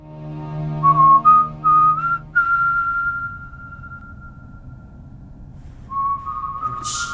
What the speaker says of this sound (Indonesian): Itu siulan nada yang ia kenal sejak bocah